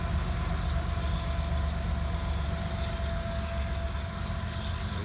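A CSX freight train hauling loaded slab steel cars rolls past as a steady, continuous low rumble and rail drone that holds an even level throughout, with no voices.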